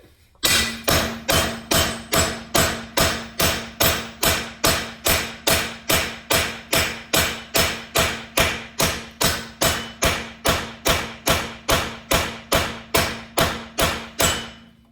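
Steady, evenly spaced metal hammer blows, around thirty loud strikes in a regular rhythm, driving a DYNOMEC removal tool onto an over-tightened locking wheel nut on a car wheel, with no talking.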